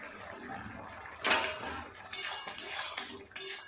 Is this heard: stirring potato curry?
yes